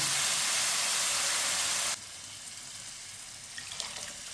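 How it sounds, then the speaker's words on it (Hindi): Water gushes into a pan for suji halwa, a loud rushing hiss that stops abruptly about halfway, leaving quiet room sound and a few faint sizzles. "2 प्याली पानी डाल लेंगे।"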